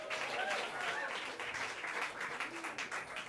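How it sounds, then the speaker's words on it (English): A fairly quiet round of audience applause for a music ensemble at a graduate orientation concert, continuous clapping with some voices underneath. "Another big round of applause for them."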